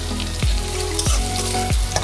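Chopped onion with green chillies stir-fried in oil in a pan for a Bengali fish dish, a steady close sizzle broken by three regular scraping strokes of a spatula.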